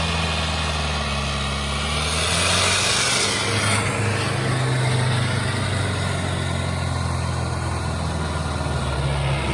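A tractor engine idles and runs steadily nearby, a low continuous chugging drone that swells slightly partway through, with no talking.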